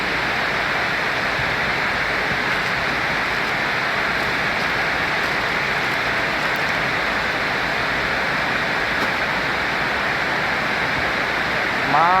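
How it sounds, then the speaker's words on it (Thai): Steady, dense rainfall pours down throughout, a broad continuous hiss with no breaks, close and fairly loud. "รอฝนตก"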